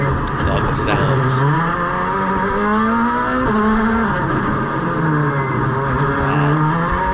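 Rally cars tear through a stage, their engines revving hard and rising and falling in pitch through gear changes, loud and close in a continuous, roaring stream.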